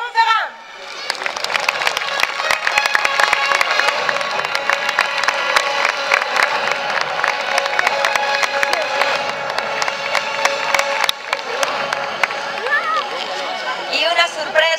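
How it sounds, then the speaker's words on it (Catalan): An audience at an exhibition combat performance breaks into loud applause and cheering, sustained dense clapping with scattered shouts and voices mixed in throughout. "Voldria demanar-vos un gran aplaudiment per Etienne de Montferrand."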